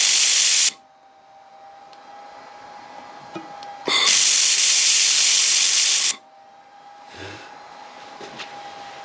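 Xlaserlab X1 Pro laser cleaner working over an anodized bolt, giving two loud bright hissing bursts of about one and two seconds, each cutting off sharply into a quiet hum between them.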